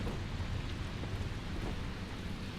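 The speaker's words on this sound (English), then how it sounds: "It is raining in Rapture" Steady, dense rain pours without a break in the video game BioShock 2, with a low rumbling underneath like distant thunder.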